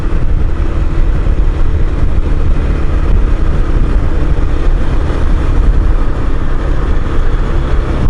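Steady, loud motorcycle engine drone while riding, a continuous low rumble with no breaks and no voices.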